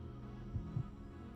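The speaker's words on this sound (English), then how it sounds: "The heartbeat." Heartbeat sound effect in the Resident Evil Code Veronica X video game, a faint low double thump over a steady background hum.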